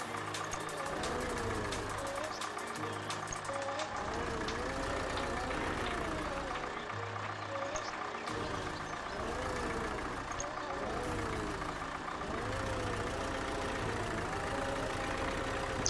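Liebherr 900 excavator in Spintires, its heavy diesel engine droning and labouring steadily throughout with rising and falling revs, someone talking over it now and then.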